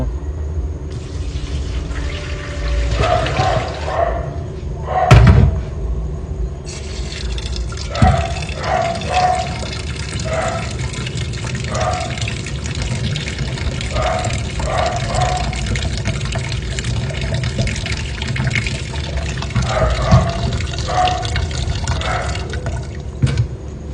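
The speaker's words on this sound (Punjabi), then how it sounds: "ਇਹਨਾਂ ਕੱਟੇ ਹੋਏ ਆਲੂਆਂ ਨੂੰ ਹੁਣ ਚੰਗੀ ਤਰ੍ਹਾਂ ਪਾਣੀ ਨਾਲ" Cut potatoes being washed for pakoras: water splashes, drips and pours over them in repeated bursts, close by, with rattling and handling sounds between the splashes.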